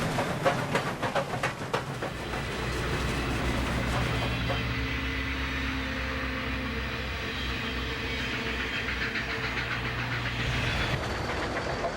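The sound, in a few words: Southern Pacific cab forward steam locomotive helping train up Cuesta Grade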